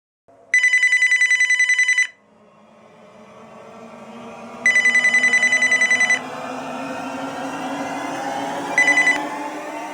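A telephone rings in a home in three electronic bursts. The first two bursts last about a second and a half each, and the third is shorter and cut off. A low rumbling hum rises between the rings.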